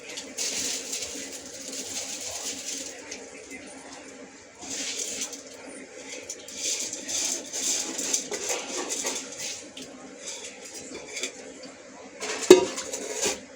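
Metal utensil scraping and stirring rice inside a cooking pot of boiling water for biryani, steady and close, with a sharper clank near the end; faint bird coos sound in the background.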